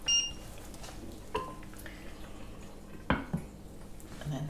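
A lid goes onto a pot of simmering ale beef pie filling. Faint metallic clinks and a sharper clatter stand out over a low background, with a soft bubbling drip.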